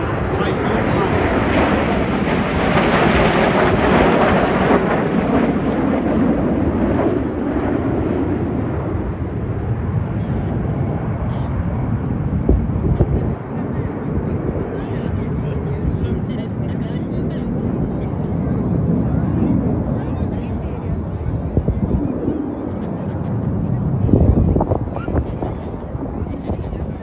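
RAF Red Arrows jets flying an air display at the Midlands Air Festival give a loud, continuous roar that swells and slowly fades, with wind buffeting the microphone and a commentator speaking over it.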